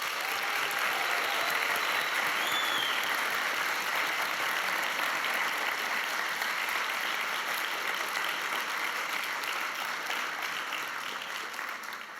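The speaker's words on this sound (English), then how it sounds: "give the organizing committee a big round of applause for this event" An audience at a global business case competition final gives a long, steady round of applause for the organizing committee. The clapping stays dense and even for about twelve seconds, then fades slightly at the end.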